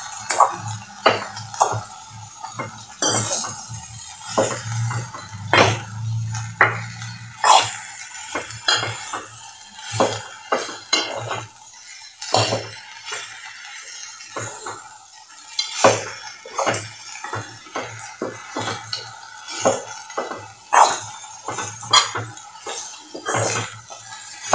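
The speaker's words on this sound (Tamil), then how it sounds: "நல்லா வெங்காயத்து கூட நல்லா கலங்குற மாதிரி நல்லா திரட்டி விட்டுக்கோங்க." A spoon stirs chopped banana flower and onions in a pan, making irregular metallic clinks and scrapes against the pan, close and fairly loud, in frequent bursts throughout.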